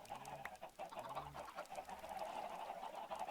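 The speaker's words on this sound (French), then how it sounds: "Ils m'ont saoulé ces poules." Several Minecraft chickens cluck and murmur close by in short, repeated bursts over a steady background hum.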